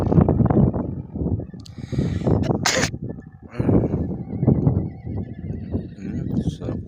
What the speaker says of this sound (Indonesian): Suara kuda di mana nih?